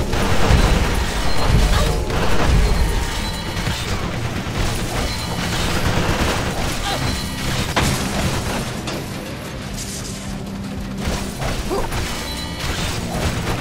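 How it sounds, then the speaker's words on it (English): Wall-mounted turrets firing in Marvel Ultimate Alliance 2, a continuous dense clatter of shots, crashes and booming impacts from combat that stays loud throughout, heaviest near the start. "we gotta get these turrets off the walls because they're shooting us the hell up"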